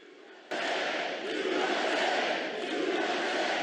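Sudden roar of a large political rally crowd, a thick, continuous wall of cheering and shouting that stays loud and steady after a quieter start.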